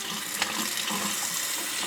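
Steady running tap water wetting a knife sharpening stone, a continuous close hiss and splash for a couple of seconds with no voices.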